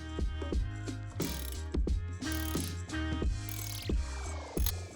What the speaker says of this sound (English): all I'm doing is turning clockwise until I pull out the bearing.